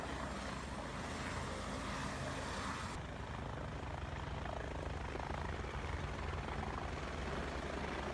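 A helicopter passes near Kedarnath over the Kedarnath Wildlife Sanctuary in Uttarakhand, giving a steady, loud rotor and engine drone that holds without a break for the whole stretch. No one speaks.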